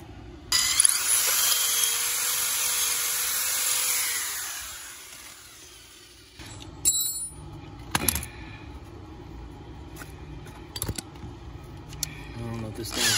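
A high-pitched whining drill runs steadily for several seconds during a fiber internet installation, then stops, followed by clanks, rustling and scattered handling noises nearby.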